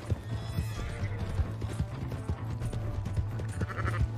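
A horse in Red Dead Redemption 2 whinnies over rhythmic clip-clopping hooves, with game-like background sound underneath.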